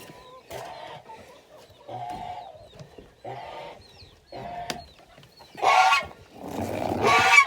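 Geese on a homestead in the morning give a series of honking calls in separate bursts, growing louder and busier toward the end, close by and without speech.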